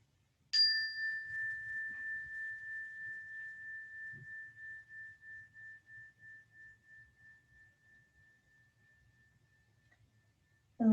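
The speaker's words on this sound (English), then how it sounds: "Let the sound, the frequency of this noise, this bell, move through your body from head to toe." A single resonant bell struck once during a yoga session rings out with a clean, sustained tone that slowly fades and pulses over about ten seconds in a quiet room.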